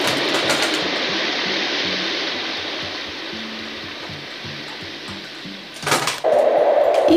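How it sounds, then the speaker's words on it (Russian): A baby-sleep white noise machine plays its deep surf setting, a steady broadband wash that rises and falls gently, with a brief louder burst near the end. "Шум прибоя."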